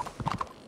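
Horse hooves clip-clop in a Wild West roleplay video game, making a brief, fairly faint run of four or five quick hoofbeats on hard ground.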